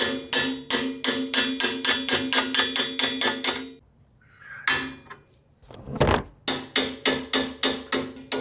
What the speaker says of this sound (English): Sure, it should just come out with a few taps.